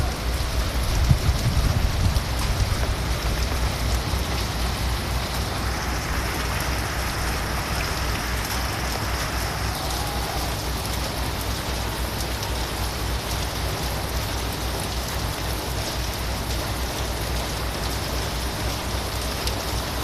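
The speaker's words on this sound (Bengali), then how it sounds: "মোটা অঙ্কের বৃষ্টিও পড়তেছে।" Heavy rain pours during a nighttime storm in Rangpur, heard from under a shop veranda as a dense, unbroken roar of falling water and splashing, with no voices.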